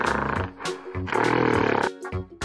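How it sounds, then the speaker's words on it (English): A loud, harmonic animal roar from a toy or game, given as a gorilla, comes in two long bursts with short gaps, alone and close. "Gorilla."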